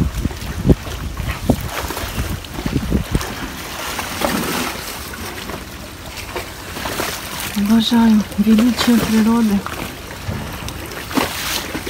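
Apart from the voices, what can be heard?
waves on a reservoir shore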